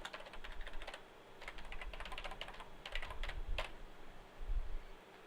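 Quick runs of clicking keystrokes on a computer keyboard while a web address is entered into a browser, bursts separated by short pauses, close and clear with no talking.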